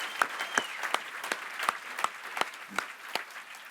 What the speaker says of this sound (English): let's give all those Nonprofit Executive of the Year finalists a round of applause